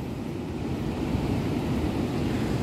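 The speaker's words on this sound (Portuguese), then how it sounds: "Está descendo bastante água ainda," Water pours steadily over the Zabumbão dam spillway in a continuous, dense, loud roar with no breaks and no voices.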